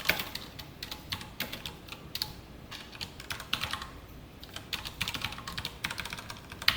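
Someone typing code on a computer keyboard, quick irregular key clicks in close, fairly quiet bursts with brief pauses, no voice.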